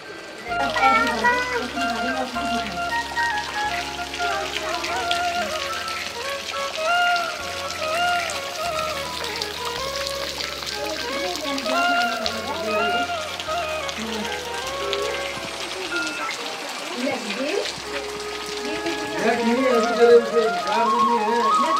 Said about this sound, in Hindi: बारिश का मौसम और इस मौसम में चाय और मिश्री क्या टेस्टी होती है